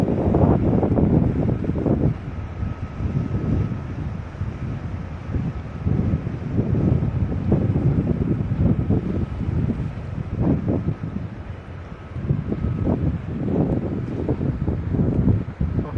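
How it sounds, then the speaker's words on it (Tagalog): Strong wind by the water while cycling in the Netherlands, buffeting the microphone in loud, continuous gusts with rumbling surges that rise and fall throughout, no talking heard. "Malakas ang hangin, gawa ng tubig."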